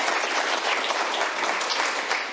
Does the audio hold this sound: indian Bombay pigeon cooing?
no